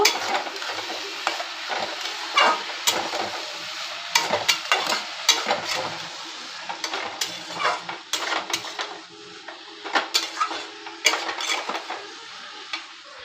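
Curry with coriander powder stirred in a pan, with irregular spoon scrapes and metal clinks over a soft sizzle, close and steady for several seconds, and no speech.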